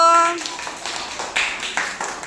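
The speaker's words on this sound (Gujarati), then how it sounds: "ચાલો તાળી પડી દો" Young children in a preschool class clap their hands in a few scattered, uneven bursts after a brief spoken voice at the start.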